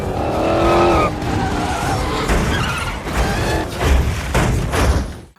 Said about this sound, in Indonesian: Terjadi kejar-kejaran mobil di jalan raya antara tim Dom dan polisi.